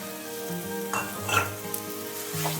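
Melon seed, chili and peanut paste sizzling in a pan, a quiet close frying hiss with a few light clinks and scrapes and no speech.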